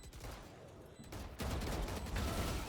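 Bursts of rapid gunfire during a professional Valorant match on the map Sunset, dense rattling shots with a brief lull before a louder volley.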